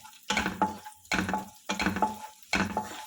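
Garlic and ginger frying in a pan for a mushroom masala, stirred in four evenly spaced bursts of scraping and sizzle, close and moderately loud, with no talk.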